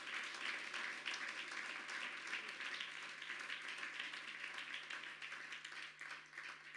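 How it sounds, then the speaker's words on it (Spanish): A congregation at a Spanish-language church service claps in praise to the Lord, a dense, steady wash of applause that stays fairly even and moderately loud throughout, with no voice rising above it. "¿Cuándo pueden dar un aplauso de alabanza al Señor?"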